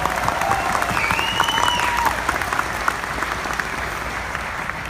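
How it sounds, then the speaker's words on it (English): An audience at a company homecoming event claps in steady, dense applause that holds full for a few seconds and then thins slightly, close and loud, with faint cheering in the background. "So again, a big round of applause for Mr."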